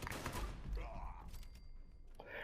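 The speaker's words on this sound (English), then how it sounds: "I am probably actually firing more rounds than I need to." Rapid shotgun blasts fire in Fallout 76, a quick cluster of loud, thumping reports at the start trailing into softer shots, with a voice talking over them.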